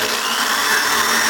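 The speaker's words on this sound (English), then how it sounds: "I'm going to drill a hole right in the middle." A power drill whines steadily as it bores a hole through the middle of an acoustic guitar's wooden body, loud and close with a constant high-pitched grinding tone.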